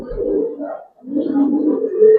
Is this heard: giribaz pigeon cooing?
yes